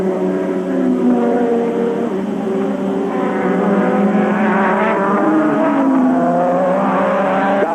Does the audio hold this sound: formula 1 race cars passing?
yes